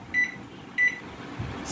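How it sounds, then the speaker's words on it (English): A Daewoo microwave oven with its cover removed sounds two short, clear keypad beeps, then settles into a faint low running hum with no fan noise. "As you can see, the microwave is running"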